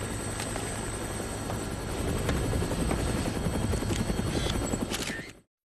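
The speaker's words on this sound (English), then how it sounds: "Looks like taking a helicopter was the way to go." A helicopter in the Dead Rising video game flies steadily overhead, its rapid rotor chop forming a dense, continuous beating drone that grows slightly louder midway before cutting off abruptly near the end.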